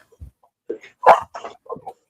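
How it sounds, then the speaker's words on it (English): A pet dog at home barks and yips in short excited bursts during a playful bout of zoomies, fairly close and moderately loud, with no talk over it. "I hear a dog."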